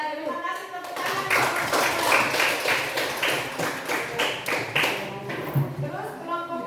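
A classroom audience claps for a student group, a steady mass of quick overlapping handclaps sustained throughout with voices mixed in underneath.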